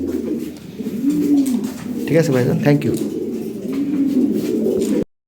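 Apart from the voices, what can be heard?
Lahori and Sirazi pigeons cooing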